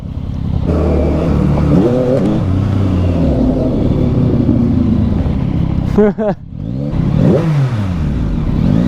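A 2023 Yamaha MT-09 motorcycle engine, A2-restricted, rumbles and revs up and down close by amid city traffic, with people talking over it.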